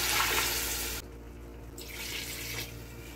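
Water pours into a pot of mutton and potato curry as a loud, rushing splash that briefly drops, then swells again, with no voices.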